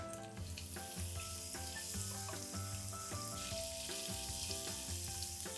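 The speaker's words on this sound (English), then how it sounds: "We're going to saute this till the aroma releases." Sliced onion with jeera, ginger garlic and chili paste sautés in a pan, giving a continuous close sizzle with occasional stirring clatter, steady and loud throughout with no talking.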